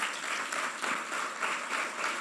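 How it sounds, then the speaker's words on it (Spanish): Church congregation applauding during a sermon, a soft, fairly distant patter of many hands with gentle rhythmic swells, steady and unaccompanied. "Dele un aplauso al Señor, amén."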